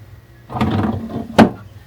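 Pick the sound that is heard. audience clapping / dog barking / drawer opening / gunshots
drawer opening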